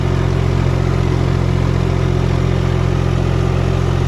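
New Holland T580B tractor engine running steadily with a loud, constant low drone and a heavy rumble throughout, no voices over it.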